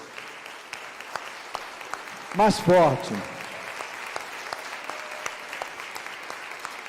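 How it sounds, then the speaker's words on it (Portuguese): A church congregation applauding during a sermon, a steady patter of clapping from many people throughout, with a voice speaking briefly over it midway. "Podemos aplaudir a palavra do Senhor?"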